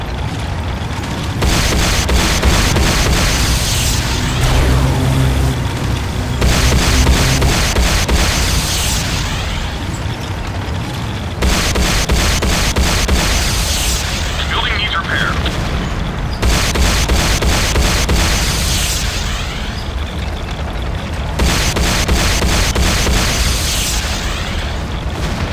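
Repeated heavy explosions and booms from an attack on a Tiberium refinery in the Renegade video game, loud, dense rumbling bursts coming in long waves with brief lulls between.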